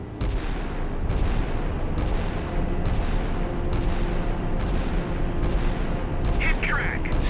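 Heavy naval guns fire in a steady sequence of salvos in a missile-age naval combat game, each shot a loud deep boom followed by a rumbling tail, spaced roughly a second apart.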